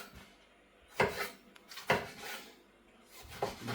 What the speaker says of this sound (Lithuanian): Pjaustom pomidoriuką greitai.